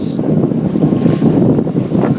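Strong gusts of 30 knots buffet a sailboat at sea in rough conditions, a loud, continuous roar of wind noise across the microphone mixed with the wash of waves.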